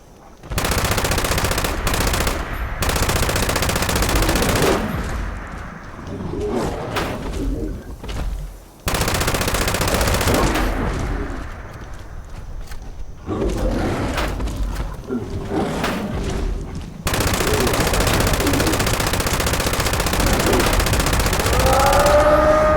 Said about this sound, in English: vampire-like machine gun.